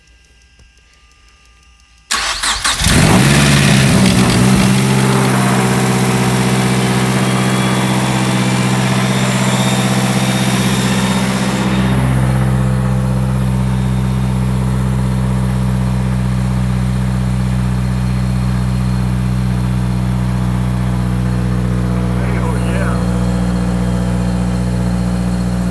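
A car engine with a newly installed GTX3076R big turbo cranks and fires on its first startup, catching abruptly, then settling into a loud, steady, rumbling idle close by for over twenty seconds.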